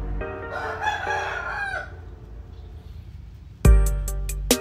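A young rooster crows loudly and close by, one long drawn-out call, followed by a sharp burst of several more short, loud crowing notes near the end.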